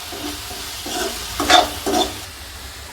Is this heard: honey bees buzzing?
no